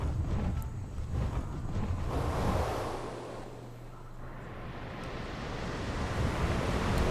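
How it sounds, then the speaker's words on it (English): A waterfall in Ark: Survival Evolved on the Crystal Isles map gives a steady, full rushing roar that dips slightly midway and then swells again, continuous and fairly loud. "Waterfall! I love waterfalls."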